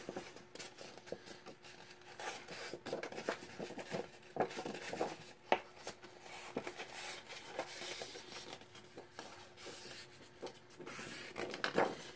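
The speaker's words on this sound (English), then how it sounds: "Okay, just going to fold all 4 right now." Paper being folded and pressed flat for a Halloween-themed 8x8 craft project: steady dry rustling with sharp crease snaps and scrapes throughout, fairly close and moderately loud, with no talking.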